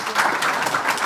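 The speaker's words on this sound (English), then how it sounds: "A round of applause for her." Brief burst of audience applause for a panelist at a stakeholder forum on transitional justice, a dense, fairly loud wash of clapping hands lasting only a moment.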